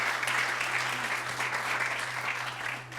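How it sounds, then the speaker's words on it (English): Audience applause at a leadership panel discussion, steady and dense throughout, with a constant low hum underneath. "A round of applause."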